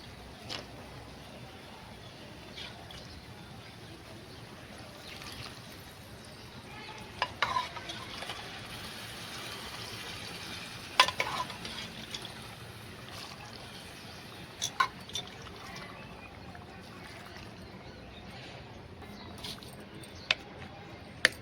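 Boiled pigeon peas are stirred into masala frying in oil in a pan, giving a steady soft sizzle throughout, broken by occasional louder scraping and clattering of the spoon against the pan, close up with no talk.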